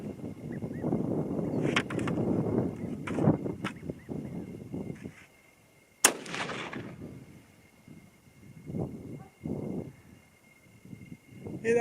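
A single sharp rifle report from an 8mm Mauser (8x57mm) firing handloaded ammunition, a sudden loud crack with a short decaying tail outdoors, preceded and followed by someone talking.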